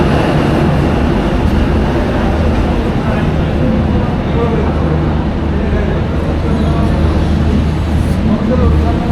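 Inside a moving HSL MEMU train hauled by a locomotive on the snowy Kashmir line, a loud, continuous rumble and rattle of wheels and carriage fills the space, with a voice speaking over it.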